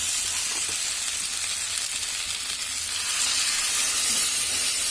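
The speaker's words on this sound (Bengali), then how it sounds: "এবার আমি দিয়ে দেবো এর মধ্যে জল।" Water poured into a pan of well-browned, slow-cooked meat in a home kitchen sends up a steady, loud sizzle and hiss that holds throughout and swells slightly toward the end, with no talking.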